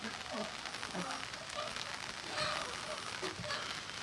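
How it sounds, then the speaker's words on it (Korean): Steady rain falls outdoors at night, a soft continuous patter with scattered drips, fairly faint throughout. "때마침 비가 추적추적 내리고 있습니다."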